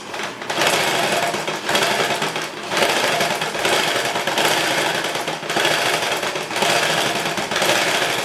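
Sewing machine stitching the front arm pieces of a lined blouse together, a loud steady mechanical whirring that runs in several long bursts with brief pauses between, close by and without talk.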